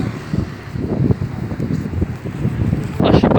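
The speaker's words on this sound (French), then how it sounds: "d'un coup ça se lève le vent là" Wind gusts along a Paris street, a steady close rumble of buffeting air against the microphone that swells louder at the end, with faint street noise beneath.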